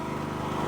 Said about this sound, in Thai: ให้ฟังเสียงจักรไปนำกันซะก่อน